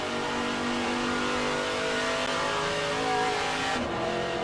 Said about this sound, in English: listen to the sound of that V8